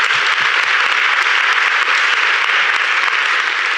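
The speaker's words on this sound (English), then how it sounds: "big round of applause for Patricia" A conference audience at a sustainable finance summit debate applauds steadily, a dense, even wash of many hands clapping that holds at full strength throughout with no voices over it.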